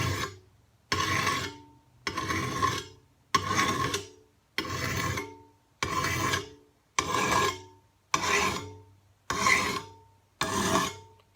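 A hand file rasps along the edge of a lawn mower blade in ten steady, evenly spaced strokes, each a loud gritty scrape separated by a brief pause, with no talking.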